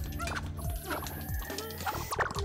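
Chickens cluck and squawk in the multiplayer video game Wand Wars, fowl calls layered over busy, tonal game sounds at moderate loudness.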